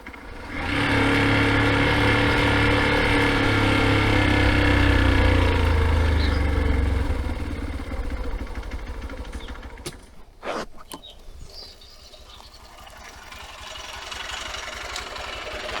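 A vehicle engine idles in neutral on a hillside trail, a steady mid-pitched rumble up close that later drops in level, broken by a few sharp knocks and clatters.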